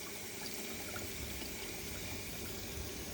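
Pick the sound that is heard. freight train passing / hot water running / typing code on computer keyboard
hot water running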